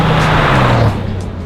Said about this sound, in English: when that flat 6 winds up and sings its gravelly song